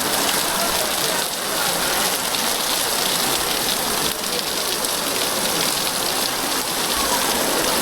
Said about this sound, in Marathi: पाऊस भरपूरच यायला लागला आहे आता